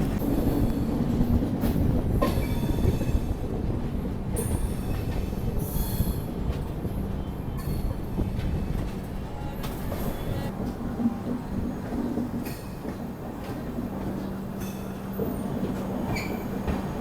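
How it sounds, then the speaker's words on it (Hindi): Train 20155 from Dr Ambedkar Nagar to New Delhi runs toward Nagda Junction, heard from inside as a continuous rumble with rattling clatter and occasional high wheel squeals. "अपनी ट्रेन कुछ ही देर में पहुंचने वाली है नागदा जंक्शन रेलवे स्टेशन पर"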